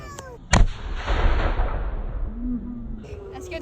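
A cannon fires at the Tryon Palace historic musket and cannon demonstration, one sudden loud boom that rolls into a long, fading rumble, with faint voices in the background afterward.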